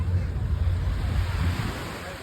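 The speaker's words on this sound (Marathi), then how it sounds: "तर हा आहे मरीना बीच" Ocean waves at Marina Beach in Dubai wash in a steady, close roar, with wind buffeting the microphone and no speech.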